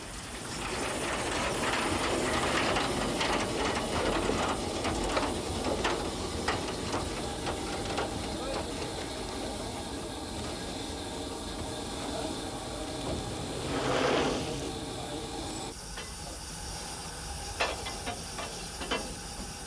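Steam locomotives from a double header stand at a German depot in 1998, sending out a continuous broad hiss with scattered clanks and rail-yard rumble, including one louder burst partway through.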